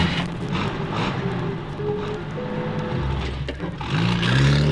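A car engine hums and then revs as the car drives off, moderately close, with the pitch shifting upward near the end.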